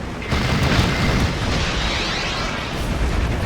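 Rocket strike explosions land in the Steel Division 2 wartime strategy game. A dense, rumbling barrage of blasts roars loud and continuous for the whole short stretch.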